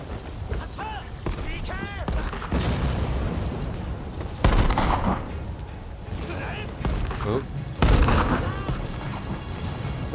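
Cannon fire in the video game Rise of the Ronin during the battle of Toba-Fushimi, heavy booms and crashing blasts at irregular moments amid battle noise, with voices and shouting mixed throughout.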